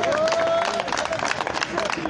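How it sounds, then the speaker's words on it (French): A crowd at a political rally in Mali applauds in dense, steady clapping mixed with voices and babble. "Applaudissez."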